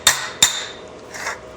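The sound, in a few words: hammer striking metal on a dolly, ringing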